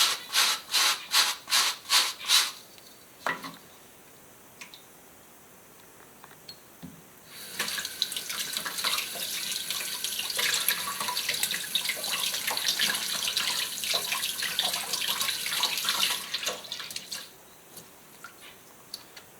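Tap water running over a soft leather slipper's sole while it is rinsed and rubbed, with a few rhythmic scrubbing strokes first, then a steady close splashing stream that stops near the end.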